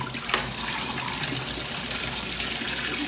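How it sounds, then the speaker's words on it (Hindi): Water sprays steadily from a small fountain at a fish pond, a continuous close splashing hiss that stays loud and even throughout, with one brief sharper splash near the start. "फवारा"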